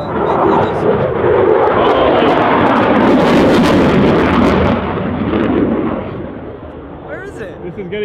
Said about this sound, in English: that's a fighter jet